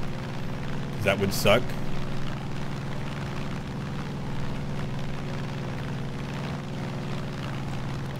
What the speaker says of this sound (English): I really hope that this helicopter does not have the ability to shoot missiles at me.